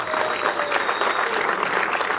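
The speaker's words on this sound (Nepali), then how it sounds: "अलिकति पढा रहेर लगातार र जोरदार तालीको अपेक्षा गर्दछु" An audience at a Nepali lifetime-achievement award ceremony for a singer breaks into strong, continuous applause, a thick wash of many clapping hands with a faint crowd murmur beneath.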